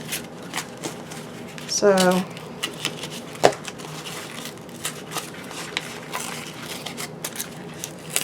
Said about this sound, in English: I was worried this paper might be thick and difficult to tear, but it's not.